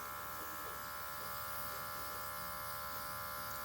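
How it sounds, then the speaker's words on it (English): A Luminess airbrush makeup system sprays through its handheld wand with a steady, faint electric buzz and airy hiss that holds unchanged throughout, with no talking. "take the wand and almost use it as if you were using a brush, okay, to airbrush it onto your face"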